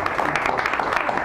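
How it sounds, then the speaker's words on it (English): Audience at an open mic night in a San Francisco cafe applauding to welcome a performer to the stage, a dense, steady wash of clapping throughout. "welcome to the stage with a big round of applause"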